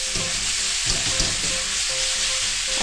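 Noodles stir-fried with sauce and pepper in a pan for yakisoba, sizzling loudly and continuously, with scraping stirs and tossing knocks up close and no talking.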